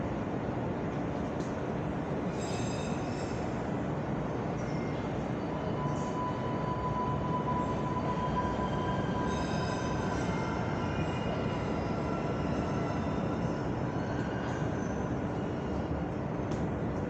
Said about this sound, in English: The next E train to East Street is now arriving.